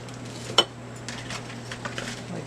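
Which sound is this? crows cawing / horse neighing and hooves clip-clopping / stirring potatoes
stirring potatoes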